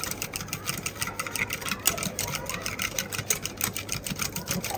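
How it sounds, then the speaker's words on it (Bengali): A manual egg beater whips coffee foam for cappuccino, a rapid continuous whirring clatter with fast even ticking, close and steady throughout. "মানে একটা এগ বিটার নিয়ে নিছেন"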